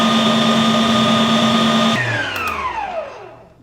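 An electric mixer whips pistachio cream flavoured with vanilla, giving a loud, steady motor whine for about two seconds. The motor then cuts off and its pitch slides downward as it winds to a stop.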